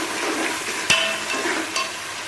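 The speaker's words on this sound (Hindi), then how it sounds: "तो इसमें आलू शामिल कर दूँगी। और इनको भी 5 मिनट के लिए भून लूँगी।" Potatoes fry in masala for aloo gobhi, a steady close sizzle with a couple of brief scraping stirs against the pan.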